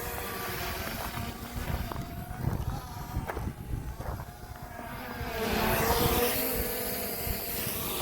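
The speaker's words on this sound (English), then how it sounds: "Really windy out here. I apologize if the audio is horrible," Gusty wind buffets the microphone outdoors during a test flight of a DEERC DE22 Pro drone, a steady loud rumble that swells and roars harder toward the end, with no talk.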